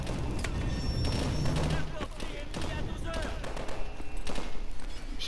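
Gunfire in Call of Duty: Advanced Warfare, rapid bursts of shots and impacts layered over dense game noise, with someone talking over much of it.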